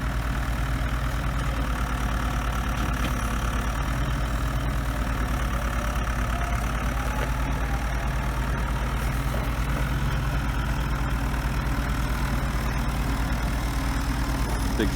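A John Deere 6300 tractor engine idles on a southern Alberta farm during straw hauling, with a steady, loud, unbroken low rumble and a knocking diesel beat for the whole stretch, and no voices.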